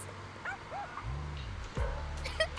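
Puppy Chestnut in the video game Zenless Zone Zero gives a few short yips and whimpering barks, close and clear over a low, steady game hum.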